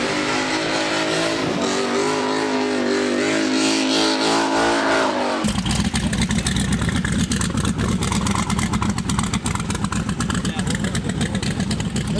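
A 4-cylinder car engine revs loudly up close, a rising pitched drone that abruptly breaks into a harsh rapid rattling roar, with voices partly over it.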